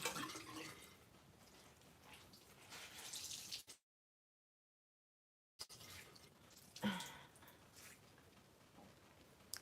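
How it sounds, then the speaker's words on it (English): A rag rinsed under running water while making a lavender honey brown sugar face scrub makes soft, faint splashing and trickling in two bursts separated by a short silent gap. "I'm just rinsing my rag off a bit"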